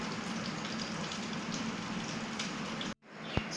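Fish fries in a pan with a steady, dense sizzle and crackle that fills the space at close range, stopping abruptly near the end before a brief knock.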